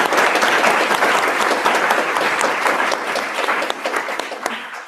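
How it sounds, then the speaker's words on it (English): Sustained applause from a workshop audience honoring the teaching assistants, dense steady clapping filling the space throughout, tapering slightly toward the end. "So let's give a round of applause to them."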